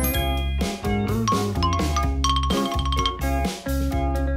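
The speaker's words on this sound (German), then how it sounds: "Xylophon?" Bright, ringing xylophone notes tapped out in a quick melody over a steady background music bed.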